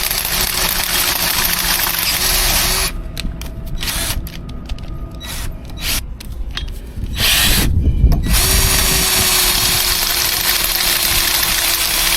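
A power sander works on a boat hull, its steady motor whine running loudly and close, with brief pauses and shifts in pitch as it bears on the surface.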